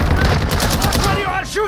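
Rapid gunfire from a DMZ multiplayer shooter game, a loud dense burst of repeated shots filling the short moment, with brief radio-like effects near the end.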